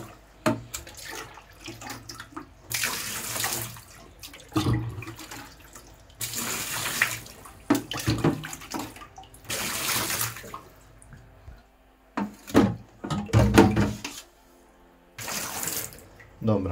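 Aquarium water is poured out and refilled with RO water while cleaning an Aquael Ultramax 2000 filter, a series of loud running-water bursts from a tap into a sink, separated by quieter pauses and some handling noise.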